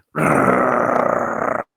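A person voices a loud, sustained guttural growl in imitation of a menacing creature, rough and rumbling for about a second and a half, close and alone with no other sound.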